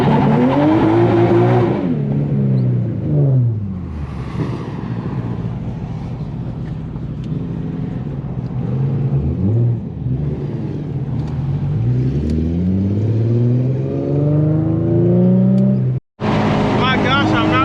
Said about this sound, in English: You want to do a burnout? I gotta break these tires in.